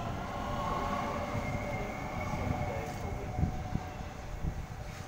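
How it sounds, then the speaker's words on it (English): An 8-car electric suburban M set train rumbles steadily close by at a platform in Sefton, with a low mechanical drone and faint hum, a few clanks standing out near the end. "Here departing from platform number one, we have a City Circle via Bankstown service."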